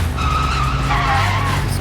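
A bus in the video game Sleeping Dogs skids with a loud, sustained tire squeal over rumbling engine noise, heard alone without talk.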